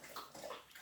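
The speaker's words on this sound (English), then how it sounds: "That would be our dog drinking water." Dog lapping water from a bowl, a brief soft burst of wet sloshing and gurgling laps, faint and close.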